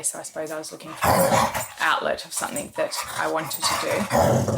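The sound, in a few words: dogs barking and growling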